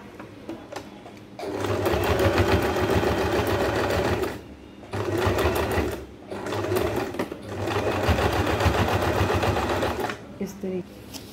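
Sewing machine stitching a six-panel petticoat, running in three long steady bursts with short pauses between, loud and close with a voice speaking during the gaps.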